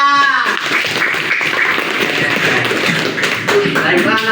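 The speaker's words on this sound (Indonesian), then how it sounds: "Tepuk tangan." A school class applauds with dense, brisk clapping that keeps going steadily for several seconds, loud and close, with a few children's voices mixed in near the start and end.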